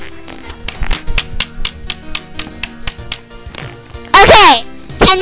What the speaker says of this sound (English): My ruler banging in a desk.